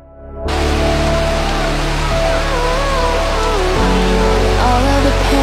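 Heavy rain pours steadily onto cadets standing in formation, a dense, loud wash of noise that starts abruptly and holds without a break, with faint sustained tones in the background.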